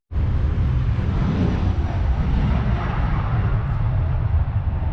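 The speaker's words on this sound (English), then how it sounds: "I just heard a plane take off there" A plane taking off near an airport in Hampshire, a broad continuous roar of jet noise holding steady and loud for several seconds, with no voices over it.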